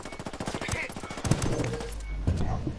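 Rapid automatic gunfire in Ghost Recon Wildlands Ghost War PvP, loud close bursts of repeated shots with rattling impacts, followed by a lower rumble and a couple of later shots.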